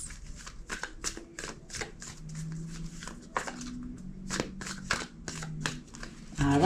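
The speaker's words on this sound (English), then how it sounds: "2 more shuffles." A deck of cards being riffle-shuffled repeatedly, crisp rapid bursts of fluttering clicks, close up, with a brief louder rustle at the end.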